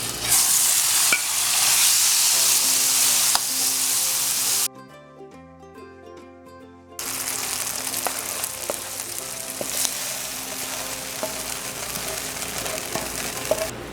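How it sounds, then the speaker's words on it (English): Beef sizzles loudly in olive oil in a pan for a stir fry, a dense steady frying hiss with scattered pops and crackles, briefly dropping off midway before the sizzle returns at full strength. "I'm adding my beef."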